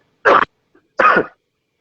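Two sharp, harsh coughs from a man with a cold, close to the mic, separated by a short pause, with no talking around them.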